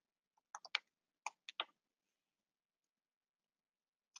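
A handful of soft, separate keystrokes on a computer keyboard type a search term, the word president. The taps come in a brief, uneven cluster in near silence, then one last isolated tap follows.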